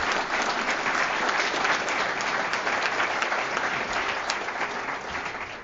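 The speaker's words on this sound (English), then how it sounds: "Can we have a round of applause for our panelists?" An audience claps for a panel of speakers, with sustained, dense applause throughout that tapers slightly near the end.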